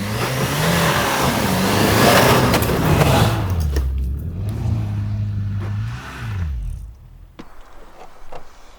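A Jeep Grand Cherokee with a 5.2-litre V8 accelerates hard, the loud burbling engine note climbing through gears with a shift, then easing off and fading toward the end, with no talk.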